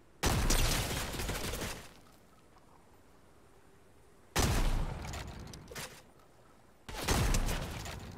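Video game gunfire comes in three separate bursts of sharp, rapid shots. Each burst lasts a second or two, and quiet gaps fall between them. No talking.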